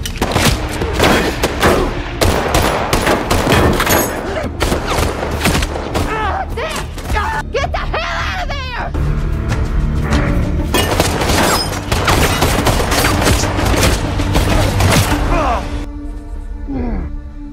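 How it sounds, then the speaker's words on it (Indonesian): Gunfire in a dramatic film scene, bursts of shots and heavy impacts cutting through a dense, loud mix of music and effects, with voices speaking at points. "Tapi untung saja si pendeta Wilder berhasil menembak kakinya dan membuatnya terluka"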